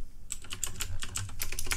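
Quick bursts of typing on a computer keyboard while entering a game server admin command, a rapid irregular clatter of close, crisp key presses after a short quiet start, with no voice.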